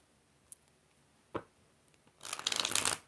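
Tarot deck handled at a reading: a couple of isolated card taps, then a dense riffle shuffle, a crisp fluttering burst lasting under a second, close up and with no talking.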